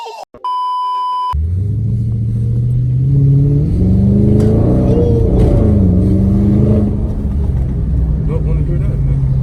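A Dodge Charger Scat Pack's big Hemi V8 rumbles and revs up loudly in the rain, its pitch rising and falling, after a brief electronic beep at the start.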